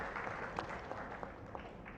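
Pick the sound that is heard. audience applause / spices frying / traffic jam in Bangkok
audience applause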